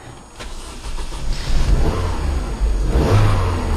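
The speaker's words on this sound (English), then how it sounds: "Car starts well" A Vauxhall Astra LPG engine cranks and catches, then revs up and settles into a steady, loud idle with a second surge of revving, close by and without talking.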